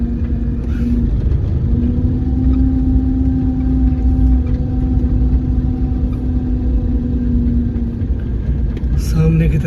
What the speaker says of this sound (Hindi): मैं फिर भी गाड़ी आगे लेने की कोशिश करता हूँ